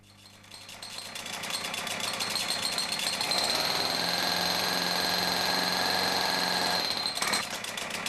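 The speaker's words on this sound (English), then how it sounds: "Giving full throttle, the engine should accelerate instantly." A Cobra Pro petrol breaker opens up to full throttle, its engine note climbing and then holding a loud, steady hammering roar up close before easing slightly near the end.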